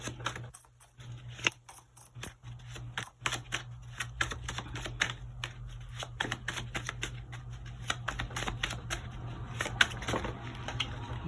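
A tarot deck is handled and cards are drawn, giving continuous close papery flicks, slides and taps in a busy irregular rhythm, with a steady low hum underneath and no talking.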